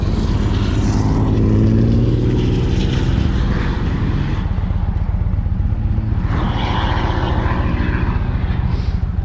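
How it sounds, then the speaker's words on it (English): An Indian Chief motorcycle pulls a heavy camping trailer through the Blue Ridge Parkway mountains, its engine a loud, continuous low drone mixed with heavy wind rush, with no voices. "So far, the Indian chief has managed to pull this heavy trailer pretty well going through the mountains."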